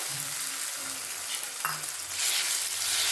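Chopped tomatoes for hotel-style dal sizzling loudly in a pan while being stirred, a dense, bright hiss filling the moment up close with a few scraping strokes and no voices.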